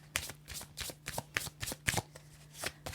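Tarot cards being shuffled and drawn, a series of crisp riffling bursts and soft slaps in an irregular rhythm, close and clear with a faint steady hum behind.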